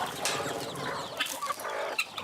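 Farmyard hens, about sixty of them, clucking together behind a house in a mixed flock with ducks and guinea fowl, a steady layered chatter of overlapping clucks at close to moderate distance with no voices over it.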